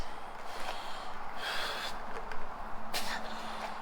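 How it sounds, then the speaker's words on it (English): A man breathes heavily and audibly while trimming rubber off FJ40 radiator hoses, several rough, snorting and gasping breaths close by over a steady background hiss. "you're breathing heavily"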